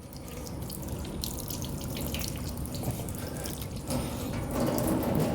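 Water runs steadily from a tap during wudu ablution, a continuous splashing stream with brief shifts as hands or feet move through it, close and fairly loud with no talk.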